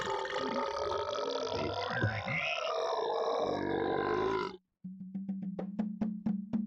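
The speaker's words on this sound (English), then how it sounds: "He's burping, obviously." In the claymation game The Neverhood, a character lets out a long, loud, drawn-out burp. A brief pause follows, then a series of short rhythmic grunting pulses.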